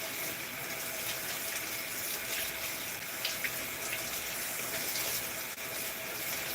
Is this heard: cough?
no